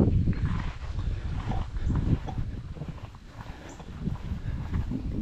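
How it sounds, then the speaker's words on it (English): Irregular hoof clip-clops of a donkey walking on a barn floor, fairly close, with soft thuds and shuffling between steps. "The donkey's followed me in the barn."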